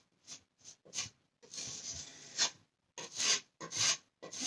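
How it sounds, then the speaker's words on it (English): Close, rasping scrapes of a tool taking excess material off furniture being prepped, in short repeated strokes and one longer drag separated by brief silences, no talk. "you're just going to scrape it right in there and take off any excess"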